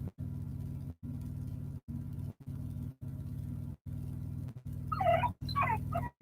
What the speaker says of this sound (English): Ah, the puppy.